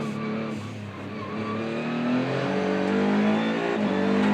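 A Maserati MC20 GT2 race car's engine roars close and loud on a circuit, its strong droning tone holding steady with a slight dip and then rising under throttle.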